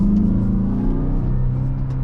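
Turbocharged engine of a 2022 Mazda CX-5 all-wheel-drive model hums and revs steadily from inside the cabin, a smooth continuous low drone with no talking.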